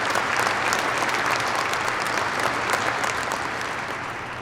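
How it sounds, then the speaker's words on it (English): Audience at a university graduate degree ceremony applauds staff and volunteers, a dense, steady wash of clapping from a large crowd that holds for several seconds and eases slightly toward the end. "let's give them a round of applause"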